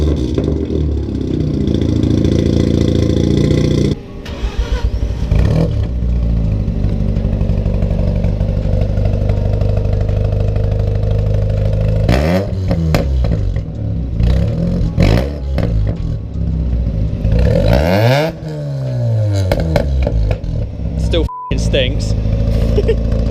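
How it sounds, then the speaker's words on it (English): A Mazda RX-8 rotary engine with a custom centre exit exhaust starts and idles with a steady buzzing drone, then revs up in several rising and falling sweeps, loud and close, with short pauses between. "Gonna start it up and give it a little rev up and we'll see if I jump this time."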